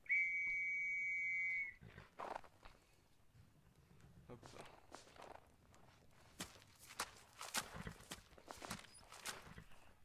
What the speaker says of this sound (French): À mon coup de sifflet.